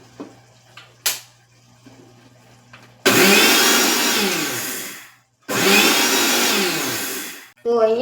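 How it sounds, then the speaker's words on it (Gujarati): A mixer grinder grinding semolina whirs loudly in two long bursts with a brief pause between, after a few quiet clicks and handling sounds. "મેં એકસો પચીસ ગ્રામ સોજી લીધી છે તેને હું એકવાર મિક્સરમાં પીસી લઈશ"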